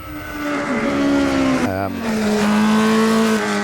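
Formula Junior race car in the sim racing game Automobilista 2, its engine holding a loud, steady droning pitch that dips sharply in a brief gear change midway, then settles into a slightly lower steady tone.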